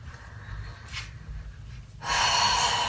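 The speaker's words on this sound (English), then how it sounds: "Breathing in through the nose and out through the mouth." A person breathing in through the nose and then out through the mouth, a soft sniffing inhale followed by a louder, airy breathy exhale at close range.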